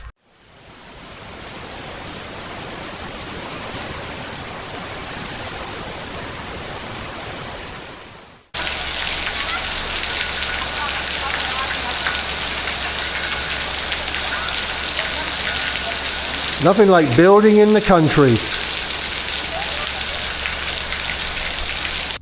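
Steady rain pours down at a house build site in the countryside, a dense, even hiss throughout; partway through a louder hiss takes over, and a voice briefly speaks over it.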